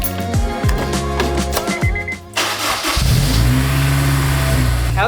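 A Honda S2000 engine turns over and revs, idling with sharp throttle blips before settling into a steady, loud, close drone as the car moves off inside a garage.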